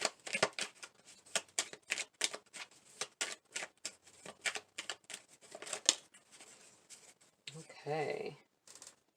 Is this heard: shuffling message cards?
yes